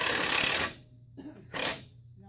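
A power wrench briefly tightening a bolt on a Chevrolet Malibu rear control arm, two short loud whirring bursts separated by a pause.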